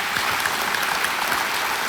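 Studio audience applause welcoming a contestant on the quiz show Kaun Banega Crorepati, a dense, steady burst of many hands clapping.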